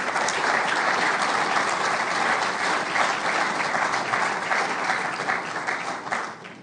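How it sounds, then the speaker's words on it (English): An audience applauds in tribute to a deceased friend at a 75th anniversary congress opening, a full, steady wave of clapping that holds evenly before tapering off toward the end. "So I want you to applaud him, please, and to applaud his memory."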